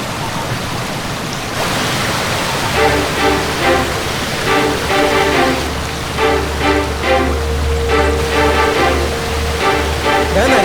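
A huge waterfall pours with a constant broad roar and splashing hiss, loud and near, while a rhythmic musical pattern plays beneath the rushing water.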